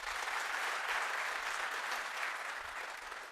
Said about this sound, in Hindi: तो जोरदार तालियां आपके लिए।